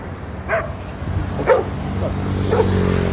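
A dog gives a few short, sharp barks or yips at roughly one-second intervals, moderately close, over a low background rumble with no clear talk.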